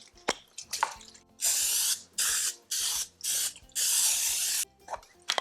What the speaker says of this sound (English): we're going to spray a 9 by 12 baking dish with cooking spray